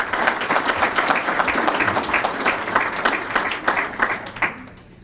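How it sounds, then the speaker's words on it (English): Steady crowd applause fills the room, dense clapping from many hands that holds strong and then fades out toward the end. "Let's give him a round of applause."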